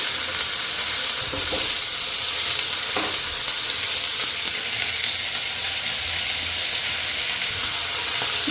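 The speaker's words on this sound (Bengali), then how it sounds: "কড়াই কি গরম হয়ে গেছে, এত গরম হয়েছে, আলু দেওয়া মাত্রে একদম ধোয়া ধোয়া হয়ে গেছে।" Potatoes dropped into a very hot wok, giving a loud, steady hiss and crackle of frying with occasional stirring scrapes and no talking.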